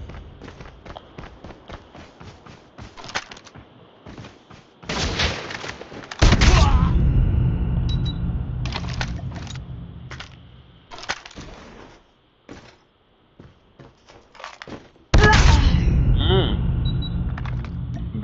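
Gunfire in Call of Duty, sharp bursts of shots in several clusters, with the loudest volleys near the middle and end and quieter crackling between them, under a voice.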